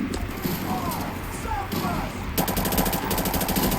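Rapid automatic gunfire aimed at a car in Call of Duty Modern Warfare Remastered, a dense stream of loud shots that grows heavier partway through, with someone talking excitedly over the shooting.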